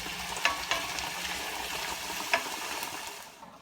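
Vegetables and peppers fry in a skillet for a quinoa enchilada dish, a soft steady sizzle with a few sharp clicks from stirring or utensil contact, fading slightly at the end.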